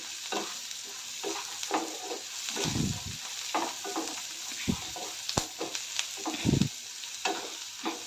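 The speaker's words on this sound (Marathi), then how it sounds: "हळद आणि शेंगदाणे घालून व्यवस्थित मिक्स करून घेते" Turmeric and roasted peanuts being stirred into frying onions in a pan for kanda poha, with a steady close sizzle and repeated spoon scrapes and clacks against the metal.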